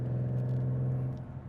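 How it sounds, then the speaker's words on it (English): Tires of a 3.7 V6 Ford Mustang drone over road rumble strips, a loud steady buzzing hum heard from inside the car that fades as the wheels leave the strip. "Ooh, hit the rumble strips."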